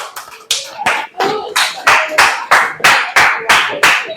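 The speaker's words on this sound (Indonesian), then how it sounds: "Berikan aplaus" Applause from a classroom audience, a steady run of loud, crisp claps at an even rhythm, close and clear with no talking over it.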